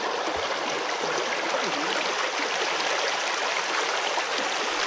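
Steady rushing of stream water flowing over rocks at Tada (Ubbalamadugu) Falls, a continuous broad wash of sound with no voices.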